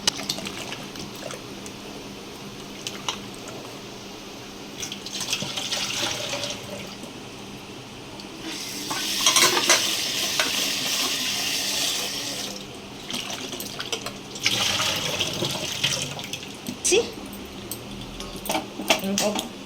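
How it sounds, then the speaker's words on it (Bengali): Water splashes and swishes in bursts as peeled potatoes are rinsed in a basin or sink in a home kitchen, with a voice talking quietly in between. "এবার আলুগুলো ভালো করে ধুয়ে নিই।"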